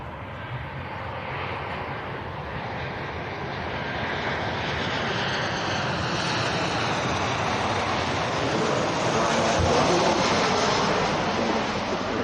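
Boeing 737-800 arriving from Milan and touching down at Manchester Airport, a broad rushing engine roar gradually building in loudness over several seconds, heard alone at a moderate distance.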